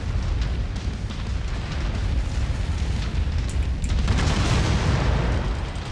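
Nuke explosion striking a player's mech in MechWarrior 5, a sustained, loud, roaring rumble that swells and intensifies toward the end, heavy low-end throughout.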